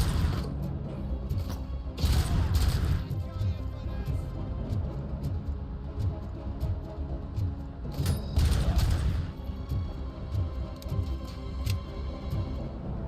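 Explosive bursts from grenades and steady gunfire in the RoboCop: Rogue City game, with a loud blast near the start and another around the middle over a continuous mechanical, clattering combat backdrop.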